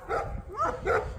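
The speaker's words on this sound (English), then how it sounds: "they are good dogs. But boy, do they make a racket" A neighbor's dogs bark loudly nearby in a run of repeated barks and yips, heard outdoors over a low background rumble.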